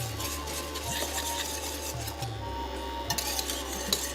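Jowar flour phirni being stirred in a pot, a steady scraping and rubbing of spoon against the pot bottom with soft clinks, close and continuous with no talking.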